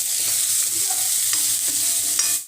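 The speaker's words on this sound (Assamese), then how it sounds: "এতিয়া এইখিনি মিক্স কৰি অলপ সময় মই ভাজি ল'ম" Spices with salt and chili powder sizzling in a pan for jackfruit seed curry, a loud steady hiss with periodic scraping strokes of a spoon stirring, no voices.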